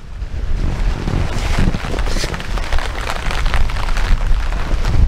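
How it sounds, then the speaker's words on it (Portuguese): Steady gusting wind ahead of rain on a rural smallholding roars against the microphone, a constant broadband rush with low rumble and no voices. "Só que tá começando a chegar com um pouco de vento aqui."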